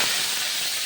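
Shing fish frying in hot oil in a pan, a steady loud sizzling hiss filling the whole short moment with no talk.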